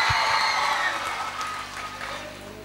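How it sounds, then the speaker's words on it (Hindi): Audience applauding loudly in a hall at a school award ceremony, dense sustained clapping with whoops that starts strong and slowly tapers, alone without talk. "जोरदार तालियों में हॉल गूंजना चाहिए प्रिंसिपल सर के लिए"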